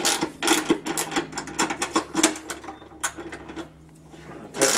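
A bolt on a Minn Kota Talon mount is tightened with a tool, giving a quick run of close, sharp metallic ratcheting clicks and rattles that then tail off into quieter handling.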